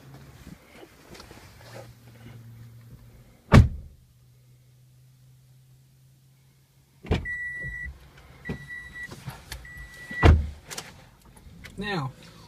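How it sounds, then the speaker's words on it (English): Power windows of a 2014 Toyota Camry SE whir from inside the cabin in several short motor runs, each ending in a soft thump, after an earlier stretch of low hum and a sharp clunk. "the SE Camry is going to come standard with power windows, with a one-touch auto feature for the driver's side"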